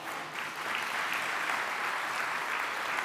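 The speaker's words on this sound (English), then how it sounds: "that deserves applause" An audience at Fort Worth's 2023 State of the City address applauds, a broad, even roar of many hands clapping in a large hall, sustained and steady for several seconds.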